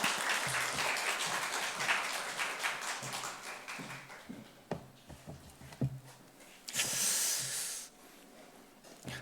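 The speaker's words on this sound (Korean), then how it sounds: "박수로 우리 목사님 모시도록 하겠습니다" A church congregation claps to welcome a pastor to a mothers' prayer meeting, a soft, hissy wash of scattered claps from a moderately distant crowd that swells briefly near the end before fading.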